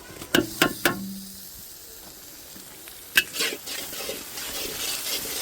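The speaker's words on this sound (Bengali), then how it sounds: "আমাদের ক্যামেরাম্যান এখন পেঁয়াজ কষা করতেছে" Onions with ginger, onion and chili pastes sauté in a pan: a few sharp metal clanks from stirring up front, then a soft, continuous sizzle with occasional scrapes.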